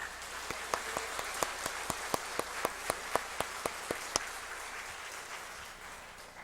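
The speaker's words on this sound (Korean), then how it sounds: "큰 박수를 부탁드리겠습니다" A church congregation claps after a choir's Easter-service singing, a thin run of separate, fairly faint claps at a steady pace that stops after about four seconds, leaving quiet room tone.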